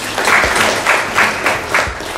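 An audience at a school knowledge competition in a hall applauds warmly, a dense, loud, sustained clapping that pulses slightly in waves without any voices.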